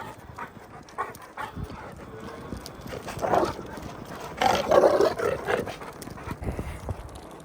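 Dogs let out for a run outdoors in rainy Mammoth Lakes pant and whimper close by, with scuffling footfalls and bursts of louder movement.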